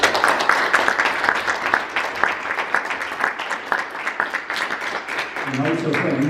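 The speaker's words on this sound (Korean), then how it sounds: "가하시면 박수로 맞이하겠습니다" Applause from a church council assembly welcoming a newly elected president, steady moderate clapping from a crowd that continues throughout, with a voice speaking briefly near the end.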